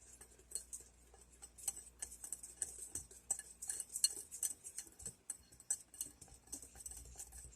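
Spices, including cinnamon, stirred in a bowl for a pumpkin roll filling, giving a run of light, quick clinks and scrapes of a utensil against the dish, faint and close, with no talking.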